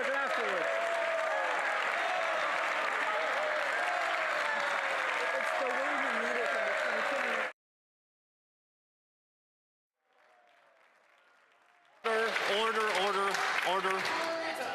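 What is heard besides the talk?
applause in the House of Commons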